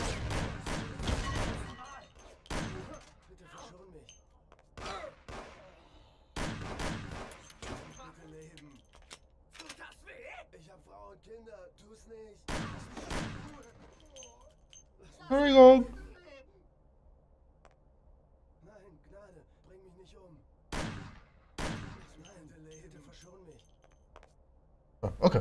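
Gunfire in the video game Mafia, scattered sharp bursts of shots spread across a stretch of talk, with one louder clattering burst in the middle and quieter gaps between.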